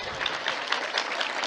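Audience applause at a motivational talk by Dr Parveen Sultana, a dense, steady patter of many hands clapping with no voices, lasting about a second and a half.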